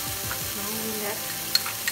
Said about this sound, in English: Keep stirring on medium heat until the oil is not getting separated from the masala.